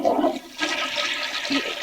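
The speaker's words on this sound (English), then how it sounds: "every time I flush it, like, see, watch." A toilet that has been overflowing is flushed, producing a loud, close, continuous rushing swirl of water that runs for the whole moment with no talking.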